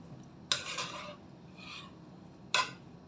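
A spoon stirs semolina upma in a pan, giving two sharp scraping strokes about two seconds apart with a softer scrape between them, quiet and close, with no talk.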